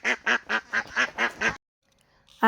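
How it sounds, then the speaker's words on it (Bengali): Newly bought ducks give seven evenly spaced loud, nasal quacks close by, then a short silence and one final quack. "তো আমি কিছু নতুন হাঁস কিনলাম।"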